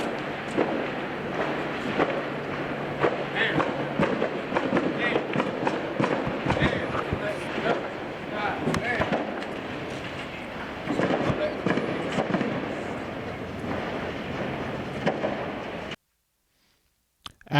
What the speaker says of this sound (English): A minute and a half of gunfire ensued.